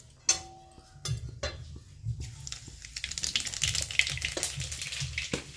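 Black cumin, garlic and green chilli hit hot fish oil in a pan, bringing a sudden burst of sizzle that settles into steady frying, with clinks of a utensil against the pot scattered through it.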